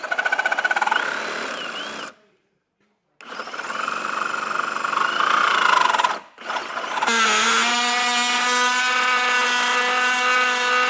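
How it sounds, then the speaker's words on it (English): A Sawzall makes cross cuts through the bumper beam of a 2024 Jeep Grand Cherokee, a loud buzzing reciprocating drone that stops twice, then resumes with a steadier, higher-pitched whine. "I'm going to start with a Sawzall to do these cross cuts"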